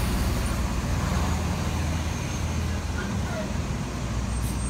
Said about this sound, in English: Sorry, another loud truck coming.